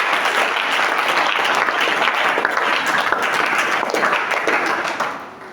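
A church congregation claps and cheers loudly in acclaim of the Lord, a dense, sustained roar of applause that tapers off at the end.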